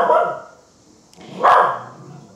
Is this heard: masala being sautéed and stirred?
no